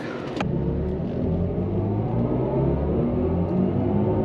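An electric BMW pulls away with a smooth rising electric whine and low rumble building steadily, no voices over it.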